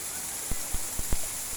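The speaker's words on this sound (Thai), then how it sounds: "น้ำตกนี่เป็นน้ำตกประดิษฐ์นะครับ" An artificial waterfall at a school gives off a steady, close rushing hiss of falling water, broken by a few soft low thumps.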